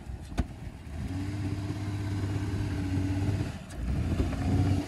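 Dodge Caravan minivan engine revving steadily while reversing, a close, sustained hum with brief knocks at the start and a swell near the end.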